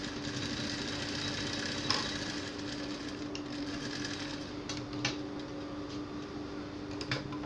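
A sewing machine stitches a 1/4-inch seam on an A-line gown, whirring steadily and close by with faint ticking, a few small clicks and bumps breaking the run.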